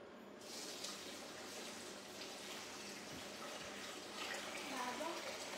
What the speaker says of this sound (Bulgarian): допълвам с вода до обозначението максимум